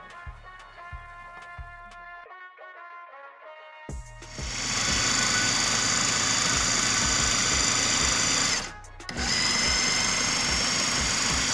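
A KitchenAid blender purees sofrito, opening with a few short pulses and pauses, then running steadily at full, loud power for several seconds, briefly cutting out, and starting again to keep blending. No one speaks.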